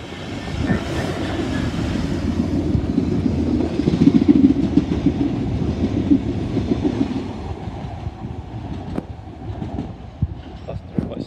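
DB Schenker class 66 diesel freight locomotive 66135 passing slowly through St Denys toward Southampton docks, a deep rumbling engine with rolling wagon noise that builds and then fades, with a voice speaking briefly over it.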